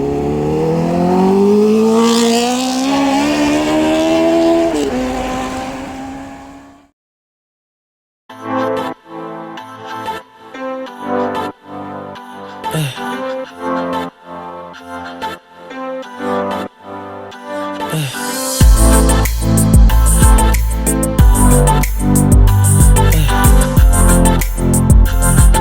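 A Honda CBR 1000RR Repsol sportbike engine revs up in a rising, sweeping whine, cuts out briefly, then returns in repeated sharp throttle blips before settling into a loud, steady roar.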